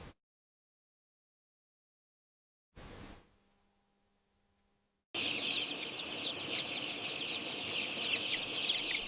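After a long silence and a brief muffled noise, chickens cluck and chatter continuously nearby, a busy flock heard steadily.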